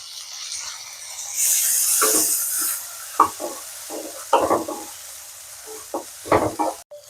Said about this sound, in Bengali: আর দিয়ে দিচ্ছি একটা ছোট সাইজ টমেটো চপ করে।